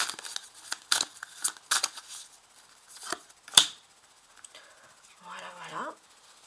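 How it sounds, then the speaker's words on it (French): An oracle card is drawn from a shuffled deck, giving a quick series of light papery flicks and snaps, one sharper than the rest, while someone speaks French softly nearby. "il me reste une carte à tirer pour le spirituel"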